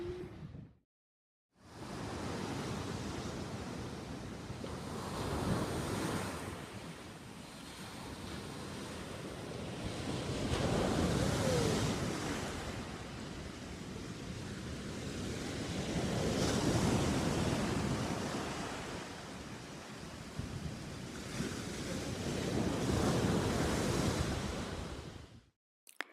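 Ocean waves roll onto a beach in Lagos, Portugal, breaking in slow repeated surges about every five seconds, loud and near, with steady wind rumbling across the microphone and no voices.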